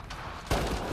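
A turret in Mass Effect Andromeda fires two sharp, loud shots about half a second apart within one second, with no talk.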